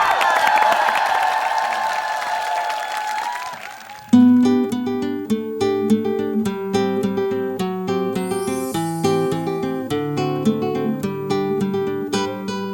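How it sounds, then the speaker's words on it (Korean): Studio audience applause on a Korean variety competition show stage, a broad crowd wash for about four seconds before a piano-led song begins and takes over. "여러분들 큰 박수가 필요합니다!"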